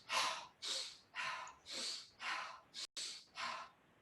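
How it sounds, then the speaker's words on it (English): Steady, close breathing cycles, drawn in through the nose and pushed out through the mouth, about seven even breaths with short gaps between them, heard alone and fairly quiet. "the breathing basically looks like this: in through the nose and out through the mouth"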